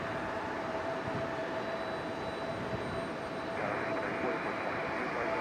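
An airliner landing at Raleigh Durham International Airport, heard as a steady, fairly faint jet roar from a distance that swells slightly toward the end.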